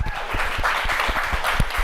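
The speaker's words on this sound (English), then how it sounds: "The applause sign just went on." Applause sound effect plays steadily as a dense wash of many clapping hands, fairly loud and continuous for the short stretch, with no talking over it.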